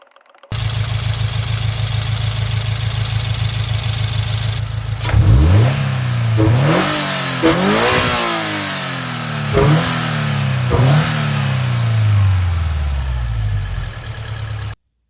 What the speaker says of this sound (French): Puis on vient appuyer doucement 10 fois sur l'accélérateur et relâcher.